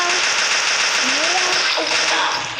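Rapid gunfire in the mobile shooter Pixel Gun 3D, a dense loud continuous burst of automatic fire with game effects layered over it, and a voice audible underneath.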